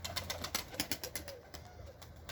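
Quiet pigeon coos and fluttery bursts in a rhythmic series, fairly faint and close, with no talking.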